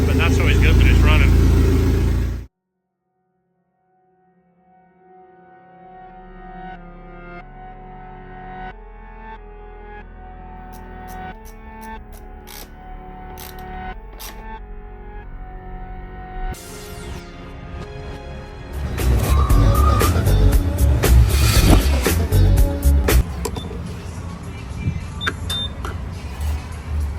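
A supercharged K24 racing engine with a 2300 supercharger, built by 4 Piston Racing, gives a short loud burst, falls silent, then idles steadily and swells into louder, rougher revving near the end.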